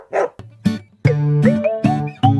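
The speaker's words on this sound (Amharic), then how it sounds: "ዶግ" A dog barks in a quick series of sharp, loud, close woofs, about five or six clipped barks with a brief yip at the start, spaced irregularly and with no talking around them.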